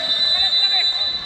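Final buzzer sounding at the end of a Filipino community basketball final, a steady high electronic tone held throughout over crowd noise and chatter.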